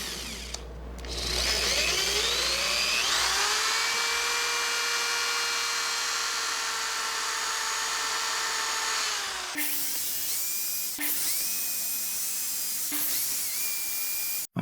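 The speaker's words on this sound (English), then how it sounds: "I'm going to drill and countersink some holes" A high-pitched power drill whines steadily for several seconds while drilling and countersinking holes, then a few shorter bursts of drilling follow in quick succession, close and loud.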